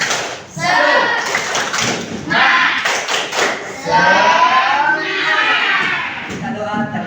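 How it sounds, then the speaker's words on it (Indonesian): Classroom of students doing a rhythmic clapping chant together, bursts of group claps mixed with loud shouted voices throughout. "Tepuk semangat."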